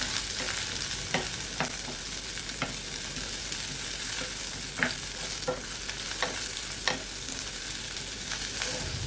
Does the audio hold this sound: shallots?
yes